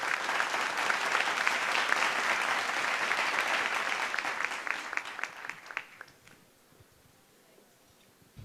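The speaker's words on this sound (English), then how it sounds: "Can we please get another warm round of applause for these lovely ladies?" An audience at the Miss Earth Australia 2018 pageant gives the contestants a warm, sustained round of applause, dense and steady for about six seconds before tapering off into scattered claps and near quiet.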